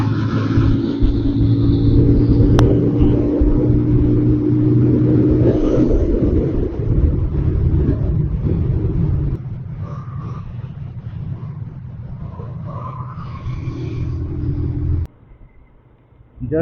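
A Pulsar 220F motorcycle cruises along a highway, its engine droning loudly and steadily with wind rush, then easing to a lower hum before a brief drop near the end.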